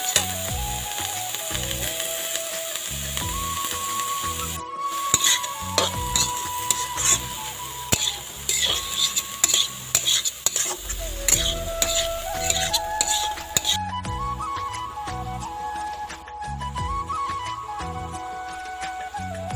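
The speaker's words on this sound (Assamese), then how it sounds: "ভালদৰে লৰাই থাকিব যাতে এইখিনি লাগি নধৰে।" A utensil scrapes and clinks steadily against a pan while drumstick flowers, tomatoes and fried potatoes sizzle underneath, the stirring rhythmic and close throughout.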